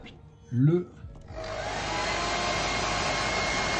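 A hair dryer switches on to dry paint on a painted miniature figure, blowing a steady, close, loud broadband whoosh that holds for several seconds after a brief spoken word at the start.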